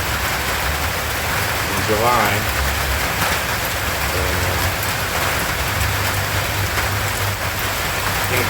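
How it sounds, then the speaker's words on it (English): Steady rain falls on an outdoor summer scene, a dense even hiss that holds for the whole stretch while a person talks briefly over it. "another rainy Saturday in"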